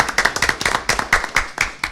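Sparse clapping from a few people at a school board meeting, separate sharp claps in an irregular rhythm, close and clear with no talk.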